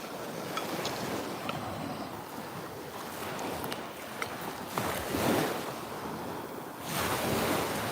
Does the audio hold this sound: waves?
yes